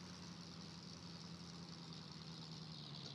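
A tractor engine idles in the farming video game Farm Simulator 22, giving a faint, steady low hum with an even mechanical drone throughout and no voices.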